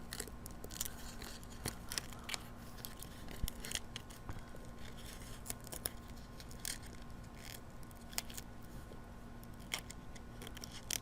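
Scissors snip through vinyl during weeding for monogrammed tile coasters, a run of faint, crisp clicks and cuts repeating irregularly over a steady low hum, close but quiet, with no talking.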